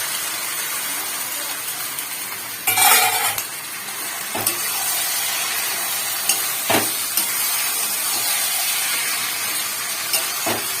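Marinated chicken hits a hot kadai with a loud burst of sizzling, then settles into a steady frying hiss broken by a few sharp stirring clatters; no one speaks.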